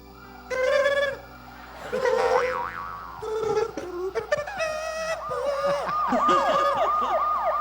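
A police siren wails with a rising and falling tone, fairly loud and mixed with other tonal sounds, with no talking.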